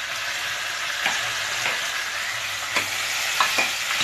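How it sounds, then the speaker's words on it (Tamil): Two medium tomatoes sautéing in a pan for a cowpea and bottle gourd gravy, a steady close sizzle broken by several soft scraping stirs spread across the clip. "தக்காளி நல்லா வதங்கணும்"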